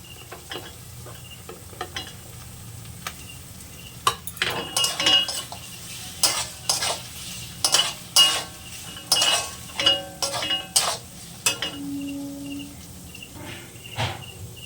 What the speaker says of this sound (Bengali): আবার একটু হালকা নাড়াচাড়া দিয়ে নেব হালকা একটু নাড়াচাড়া দিয়ে